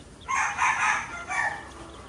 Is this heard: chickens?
yes